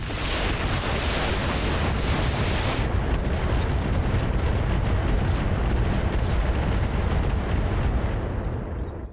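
Mech weapons fire in the RogueTech mod of the BattleTech video game, a dense, continuous barrage of booming blasts and explosions that stays loud for the whole stretch with no voices over it.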